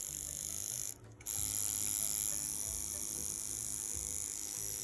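A Dragonhawk Slip rotary tattoo machine runs steadily at close range, a continuous high whirring buzz with a low mechanical hum beneath, briefly cutting out about a second in before resuming.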